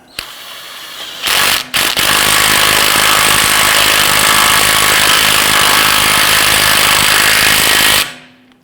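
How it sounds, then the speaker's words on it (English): Power tool, likely an impact gun, snugging down the front CV axle nut on a 2011-2019 Ford Explorer: a loud, continuous buzzing hammer for about eight seconds, with a brief stop near the start before it resumes and then cuts off. "Go ahead and snug down the axle nut."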